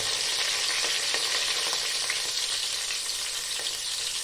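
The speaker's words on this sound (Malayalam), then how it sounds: "സവോള, ഇഞ്ചി, പച്ചമുളക്, ഉള്ളിത്തണ്ട് വേവിക്കുക." Onion, ginger, green chili and spring onion fry for biryani, giving a steady, dense sizzle throughout with faint stirring scrapes.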